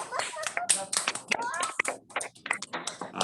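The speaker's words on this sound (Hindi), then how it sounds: "सभी जोरदार तालियां विशा के लिए एक बार जरूर बजाएं।" An audience of children and adults claps at a school program event, a brisk patter of many hands at close range with some voices mixed in.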